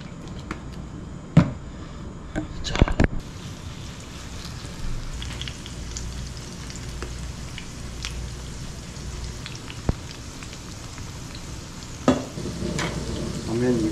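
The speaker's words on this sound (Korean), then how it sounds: "그리고 이제 부쳐야죠. 이것도 중불. 그리고 식용유." Perilla leaf and chive pancakes pan-fry in cooking oil over medium heat, with a low steady sizzle and occasional sharp utensil clacks against the pan.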